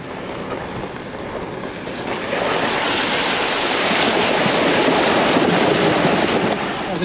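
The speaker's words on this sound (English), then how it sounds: "An easy little creek crossing" A vehicle on an outback road in Australia splashes through a shallow creek crossing, a rushing, churning water roar with engine rumble that builds partway through and stays loud and steady.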